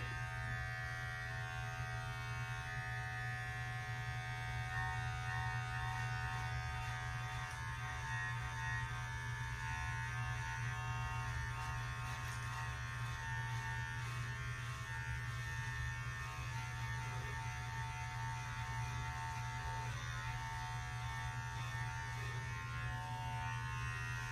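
A cheap dollar-store electric beard trimmer buzzes steadily and continuously while shaping a beard, with a close, even hum that holds without a break and carries no talk.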